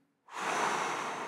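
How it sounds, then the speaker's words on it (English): A single deep breath drawn in slowly through the mouth, close and fairly loud, a steady airy rush that starts abruptly after a brief silence and holds to the end. "So I'm going to breathe in deeply."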